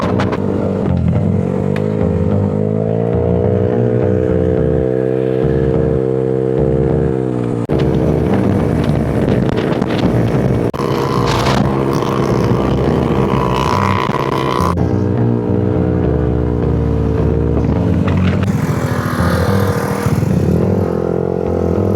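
A motorcycle ride toward Bagac in Bataan: a steady, close engine drone with humming harmonics runs unbroken throughout, shifting pitch slightly as the rider changes speed, with wind rush and no talk.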